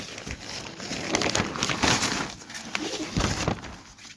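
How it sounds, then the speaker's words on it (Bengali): Pigeons coo softly in a cage just before being released, under constant rustling and crinkling as the cage is handled, close by with no voices. "আজ কিছু পায়রা উড়াবো বন্ধুরা"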